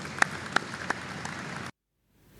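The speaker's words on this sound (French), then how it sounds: "On peut les applaudir aussi très chaleureusement." An audience at a commemoration ceremony applauds warmly, steady dense clapping with a few sharper claps standing out, ending abruptly into near silence.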